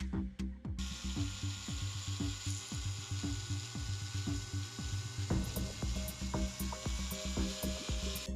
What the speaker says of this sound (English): Therefore, I take a micro drill and drill these holes deeper.